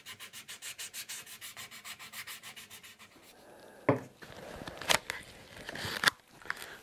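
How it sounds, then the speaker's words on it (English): Hand sanding on a wooden antique chair part produces quick rhythmic rasping strokes for about three seconds. Scattered scrapes and knocks follow, all fairly faint and close. "I can sand this down, and we're ready for the finish"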